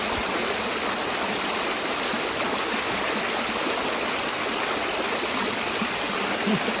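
A fast-flowing forest stream in the Malenadu hills rushes in a steady, loud, unbroken roar of churning water, close by and with no voices over it.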